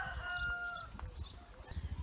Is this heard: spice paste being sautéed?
no